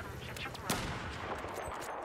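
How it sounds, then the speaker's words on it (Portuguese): Gunfire in the video game Battlefield 4, a few quick sharp shots with one stronger crack amid faint game ambience. "esse cara tá me atirando, eu não tô vendo ele, velho"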